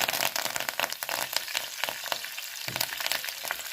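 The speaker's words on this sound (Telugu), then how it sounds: "కొంచెం ఆవాలు చిట్పట్లు ఆడాలి." Mustard seeds splutter in hot oil for a tempering with fenugreek, dried red chillies and asafoetida, giving dense rapid crackling pops and sizzle throughout, close and continuous without any talking.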